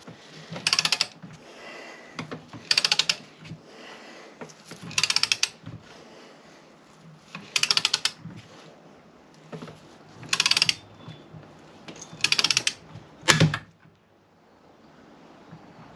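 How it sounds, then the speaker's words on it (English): A torque wrench ratchets in repeated short bursts while bolts are tightened on a Yamaha VX110 engine, about seven evenly spaced clicking pulls close by, ending in a sharper final snap. "So I'm going to set the torque wrench to 105."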